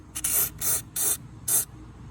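Four short bursts of lithium grease spray from an aerosol can hiss in quick succession onto car door hinges, each about a third of a second long, close and fairly loud with quiet gaps between.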